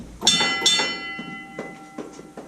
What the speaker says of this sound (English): bell signals, telling them how to run it